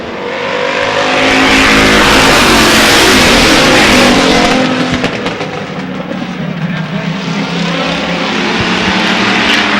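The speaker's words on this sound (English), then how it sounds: "Sherry Minier in the number 3, racing off the fourth turn." Oval-track race cars roar past loudly, engines swelling to a peak then trailing into a sustained high-revving drone as the pack races off the fourth turn and down the straight.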